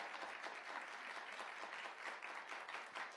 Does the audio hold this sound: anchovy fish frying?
no